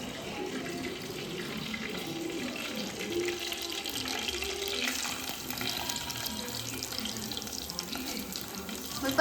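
Cooked rice being drained in a home kitchen, water pouring and splashing in a steady continuous stream for several seconds, close and fairly loud without speech.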